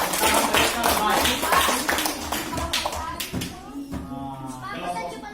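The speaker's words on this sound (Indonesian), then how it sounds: "Ya, tepuk tangan untuk mereka dulu." Students in a university teacher-training class clap for a group, with a burst of uneven clapping up front that thins as a voice talks over it, leaving a few scattered claps near the end.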